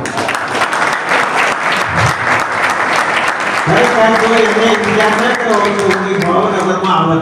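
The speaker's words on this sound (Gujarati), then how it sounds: "આપણે રમેશ વાળા ને છે ને આપણે 2 તાળી વધાવો" A crowd applauds at a Prajapati community gathering in Bhavnagar, sustained close clapping that carries on as a voice and tonal sound rise over it midway through.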